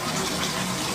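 Water runs steadily from a tap to fill a bath for a dog, a continuous close rushing flow with no pauses and no talking.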